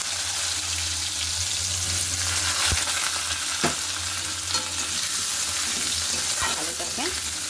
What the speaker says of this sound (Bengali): আলুটাকে আমি একটু সামান্য লাল লাল করে ভেজে নেব।